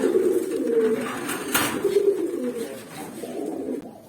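Pigeons kept in a loft coo in low, throaty, rolling calls, several close overlapping coos repeating over a quiet background with one brief flutter or thump.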